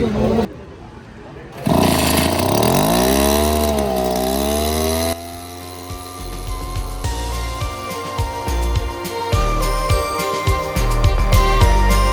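ASPEE mist duster's powerful two-stroke 57cc engine runs close by at a farm equipment demo, revving up and down with a rising, falling buzz before settling into a steady rattling idle.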